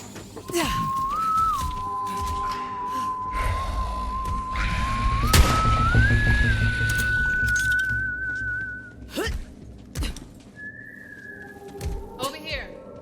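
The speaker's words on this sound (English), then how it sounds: "Someone whistling." A whistled tune in the Borderlands 3 video game, a single steady melodic line held for several seconds over background game sounds and clinks, then fading as a brief second whistle follows.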